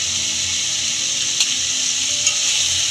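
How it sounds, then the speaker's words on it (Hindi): Maggi masala and salt roast in a hot pan with a constant dry sizzle, and a spoon scrapes and stirs through the mix with a couple of sharper knocks against the pan. "अभी से हम अच्छी तरह से भुनेंगे।"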